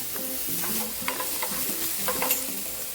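Chopped onion, garlic and green chilli sautéing in a pan for a Kerala-style capsicum stir fry, with steady sizzling and several scraping stirs of a spoon, close and alone.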